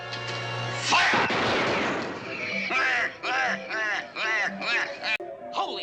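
A firing squad's volley of gunfire in a 1960s Batman TV episode, one sharp loud burst over orchestral music, followed by brassy musical stabs.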